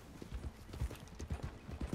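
Steady clip-clop of horse hooves trotting at a quick even rhythm, close and fairly soft, with no talking, from a horse in the video game Red Dead Redemption 2.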